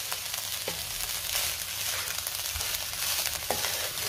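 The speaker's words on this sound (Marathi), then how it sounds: "गॅसची फ्लेम हायवरच आहे। 2 मिनिटं राईस चांगला आपल्याला परतून घ्यायचा आहे।" Fried rice stir-fried in a pan over a high gas flame gives a loud, continuous sizzle, broken by occasional sharp scrapes and clinks as it is tossed close up.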